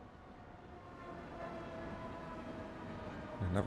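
A Class 710 electric train arriving in a train simulator game, a low steady rumble and hum building gradually in loudness, with a brief tonal sound near the end.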